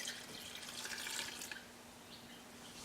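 Water poured from a container into a small crock pot holding rinsed wheat berries, a steady faucet-like splashing stream that runs loud for about a second and a half, then drops to a quieter trickle.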